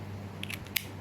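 A Beyblade ratchet clicks onto its blade during assembly, giving a few quick, faint plastic snaps followed by one sharper click, with no other sound.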